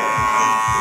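An electric hair clipper buzzes steadily and close, a constant motorised whine as it blends a beard during a short haircut.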